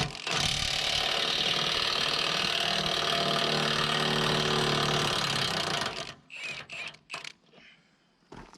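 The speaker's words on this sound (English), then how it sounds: "I managed to just put the ratchet there right through the hole" A flex-head ratchet is worked through a hole in a Dodge frame, a loud continuous mechanical clicking and grinding that runs steadily close up for about six seconds, then breaks into a few short, fainter bursts.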